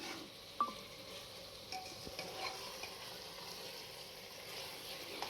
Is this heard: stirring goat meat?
yes